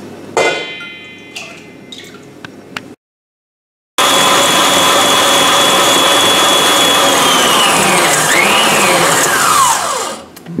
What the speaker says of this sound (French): on va passer à monter le jus de pois chiche directement au batteur, donc électrique ou directement dans le robot, à moyenne puissance au début